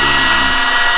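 A CNC router spins and cuts slowly into wood with low torque at the cutting head, a loud steady high-pitched whine that holds without a break.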